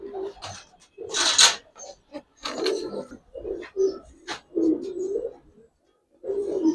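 A male pigeon coos in low, throaty bursts, close and clear, repeated in short phrases with brief pauses between them.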